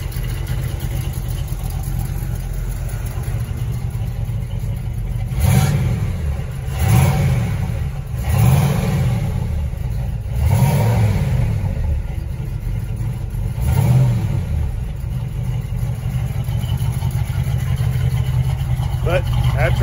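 Oldsmobile 403 V8 fitted with an Eldorado carburetor idles steadily, loud and close, then revs up in five or six separate blips midway before settling back to idle; someone speaks briefly over it.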